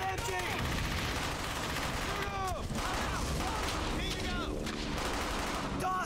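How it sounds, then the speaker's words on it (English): Machine gun fire rattles in Brothers in Arms: Hell's Highway, rapid bursts crackling over a wartime battlefield while soldiers shout orders, with scattered gunshots mixing into the din. "I need suppressing fire on that MG!"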